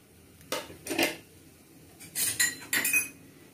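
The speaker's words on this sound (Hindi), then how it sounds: "और इसे थोड़ा सा चला लेते हैं।" Spoon scraping and clinking in a pan while spices are stirred into hot oil for chole, a few distinct metallic strokes in short bursts, close and fairly quiet with no talking.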